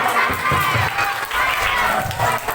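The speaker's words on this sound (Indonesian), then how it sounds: "Oke, tepuk tangan dong." A crowd of primary school children cheers and shouts together, with scattered clapping, loud and continuous for a few seconds.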